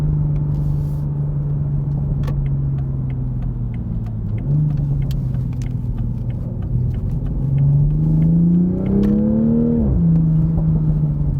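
A 2020 Toyota GR Supra with Brembo brakes drives on a street from inside the cabin, its engine drone steady, then dipping, climbing as it accelerates through gear changes, and settling again.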